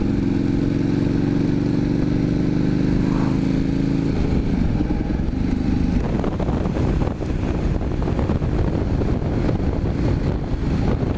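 A KTM 1290 or Indian FTR 1200 motorcycle engine runs hard while riding, a loud, continuous droning roar buffeted by heavy wind noise on the microphone, its pitch holding steady and then turning rougher and more ragged.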